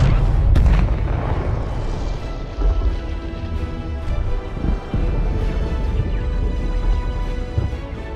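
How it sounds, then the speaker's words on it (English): Heavy explosion from a spaceship struck by a stream of rockets, a loud booming blast with a sharp crack near the start, then a long rumbling roar and further thuds rolling on without voices. "Shen heard the explosion over the comm channel"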